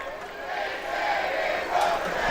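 Stadium crowd at Fitzpatrick Stadium in Portland during a soccer friendly, about 4,600 fans producing a loud sustained roar and cheering that swells gradually, heard from within the stands.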